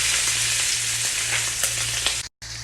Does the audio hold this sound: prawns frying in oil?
yes